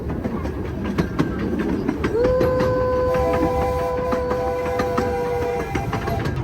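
A small steam train rumbles and clatters along steadily beside Semaphore Beach, Australia, with a long sustained whistle tone sounding for a few seconds in the middle.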